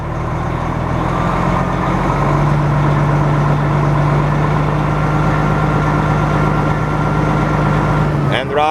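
A 1995 Simon fire truck engine with its pump engaged is throttled up, giving a loud, steady droning rumble with a sustained tone, then ending in a short clatter.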